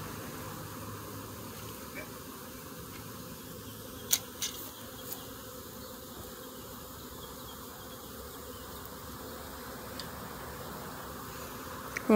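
A steady, dense buzz of a honey bee swarm drones throughout, with a few faint clicks and knocks.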